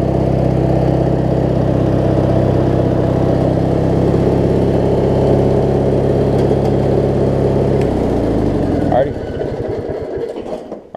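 A 1990s MTD Yard Machines riding mower engine runs loud and close at a steady idle-like drone, holding even for several seconds before the tone shifts and trails off near the end.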